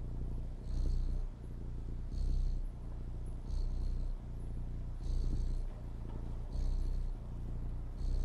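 Steady, close purring from a cat in the video game Stray during a nap, a low rumbling drone that swells in slow rhythmic waves roughly every one and a half seconds, with no voices over it.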